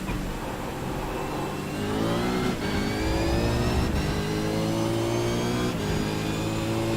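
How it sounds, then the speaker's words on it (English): Race car engine pulling hard on throttle during a track session, revs climbing steadily in a rising whine from close onboard, loud and continuous with a couple of brief gear-shift dips. "Back on the gas, not too hard on the throttle"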